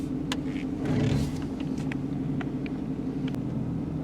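An older Chevy Silverado truck with a 350 V8 rumbles along on a cruise, heard from inside the cab as a steady low engine drone with light rattles and clicks.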